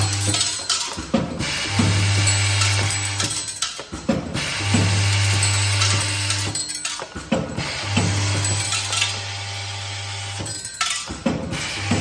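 Screw counting and packing machine for hardware fasteners running in repeating cycles, with loud rattling, clicking mechanisms and a steady low motor hum that pauses briefly between cycles, close and with no talk.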